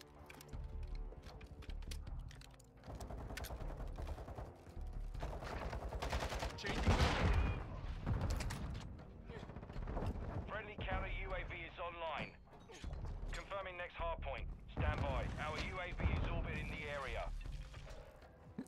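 A Sakin MG38 machine gun in the shooter Modern Warfare II fires in rapid rattling bursts, mixed with loud in-game explosions and impacts, with game voices heard at times.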